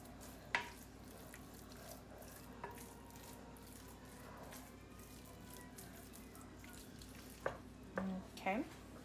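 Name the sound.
spoon breaking up lasagna filling in a sizzling pan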